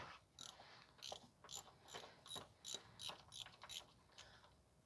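Ratchet clicks in short bursts as an 11 mm transmission drain plug bolt is loosened on a 2014 Chevrolet Sonic 1.8 with a 6T30/6T40 automatic; quiet, close, rhythmic pawl ticking with no talk.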